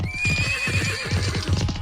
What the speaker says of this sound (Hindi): राजा के राजमार्ग पर गिरते ही रथ के घोड़े वापस थीब्स के महलों की ओर लौट गए